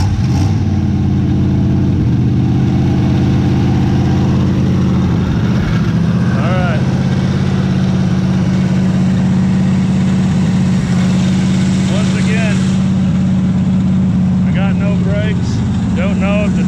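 A 1964 Chevy Impala SS convertible V8 idles steadily with a low rumbling hum throughout, close and constant, while people talk over it intermittently.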